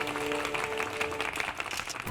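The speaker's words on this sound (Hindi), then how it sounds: "तालियां।" Applause in a staged courtroom-style show, a steady, dense wash of clapping that holds evenly throughout.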